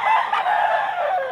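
At a Bulacan pet market, white hennie and grotto chickens crow and squawk close by in a steady, overlapping chorus lasting over a second, with no voices.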